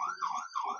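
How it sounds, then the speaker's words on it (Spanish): An ambulance siren wails outside in a rising and falling pattern, two full sweeps in under a second, fairly loud and steady with no talk over it. "disculpen ustedes la ambulancia"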